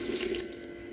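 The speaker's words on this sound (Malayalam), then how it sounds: "ഞാൻ ഇതിലേക്ക് കുറച്ച് വെള്ളം ഒഴിച്ചിട്ട് ഒന്ന് അടിച്ചെടുക്കാം" Water splashing and trickling steadily into a mixer jar, a continuous liquid rush with no voices.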